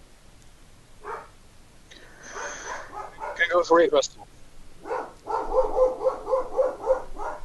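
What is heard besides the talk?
dog barking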